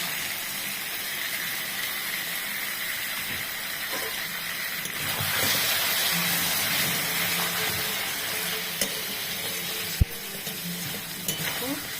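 Milk poured into meat cooking in a pan sets off a steady hiss and sizzle with faint stirring and a few small clicks, close and continuous, with a brief sharp tap near the end.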